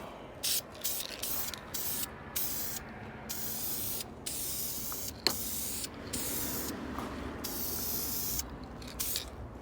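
An aerosol can sprays a light coat onto a head gasket part from a 1994 Cobra, in a run of bursts of steady hiss separated by short pauses, close and clear with no talking.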